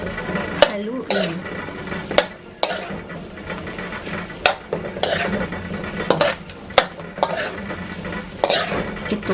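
A spatula stirs vegetable chopsuey stir fry in a pan, giving repeated sharp scraping and clattering hits against the metal over a soft background sizzle, with no talking.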